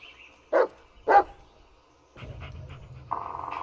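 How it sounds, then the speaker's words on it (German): A hyperactive dog in the video game Blair Witch pants close by, with two short loud breathy bursts followed by softer continuous panting over low game ambience. "Das ist Bullet, dein Hund, der nie von deiner Seite weicht und ein bisschen hyperaktiv ist."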